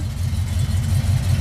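A 1968 Chevrolet Camaro SS with custom pipes idles steadily nearby, a deep low rumble running unbroken and evenly loud throughout.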